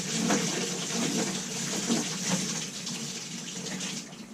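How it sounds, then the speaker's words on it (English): Water gurgles and rushes steadily out of a carboy as it swirls into a vortex, a continuous close washing-like flow with no talking. "Let the water run out."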